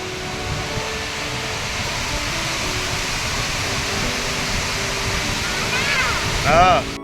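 Pittalaborra waterfall in a hidden nature spot in Andhra Pradesh roars as a dense, steady rush of falling water, loud and close, with a brief voice near the end.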